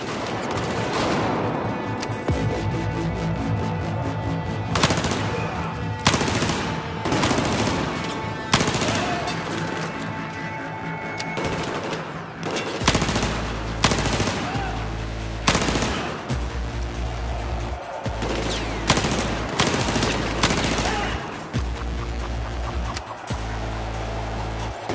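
Battlefield 4 gunfire from soldiers in the Kunlun Mountains level on PS4: loud, repeated bursts of automatic rifle and machine-gun fire with sharp single shots, dense and continuous across the whole stretch.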